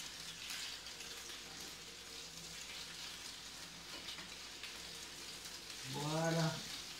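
Potato fritters fry in a pan with a quiet, steady crackling sizzle throughout, faint and close, while a voice speaks briefly near the end.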